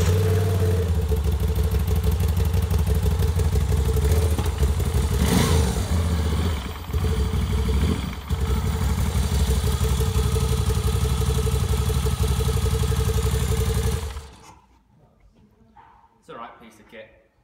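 A 2016 Moto Guzzi V7 Stone with its old-style V-twin engine runs loud and close for about fourteen seconds, a steady rumbling idle with brief dips, then cuts off abruptly, leaving near silence with faint sounds.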